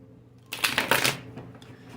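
A deck of tarot cards is shuffled and cut in one quick, close riffle lasting under a second, a crisp rapid fluttering of cards against an otherwise quiet room.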